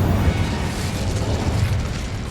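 Incendio fire spell blast in Hogwarts Legacy, a loud sustained whooshing, crackling burst with deep rumbling low end, close and alone for a couple of seconds.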